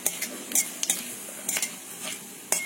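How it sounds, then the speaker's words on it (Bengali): Dried chillies and bay leaves frying in mustard oil in a wok, with soft sizzling and a few sharp scrapes and clinks of a stirring utensil against the pan, fairly quiet and close. "আমি কড়াইতে একটু সর্ষের তেল দিয়েছি, তাতে দিয়ে দিলাম 2টো শুকনো লঙ্কা আর 2টো তেজপাতা।"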